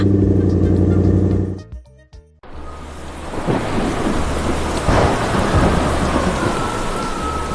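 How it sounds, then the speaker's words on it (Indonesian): Heavy thunderstorm with strong wind tearing through trees in a field in a 3D animation: after a brief tonal passage cuts out, loud continuous rain roars steadily with rumbling thunder underneath. "Lihatlah badai besar itu. Angin kencang mengguncang pepohonan di ladang hingga mereka tumbang ke tanah."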